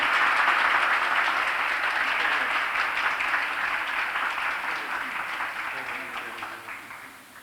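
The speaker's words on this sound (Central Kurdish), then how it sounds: "قوتابی دووەممان خاتوو زینە خەسرۆ بە چەپڵەیەکی قایم پێشوازی لێ بکەین." Applause from an audience at a private high school ceremony welcoming a student: dense, sustained clapping from many hands that gradually thins and fades toward the end.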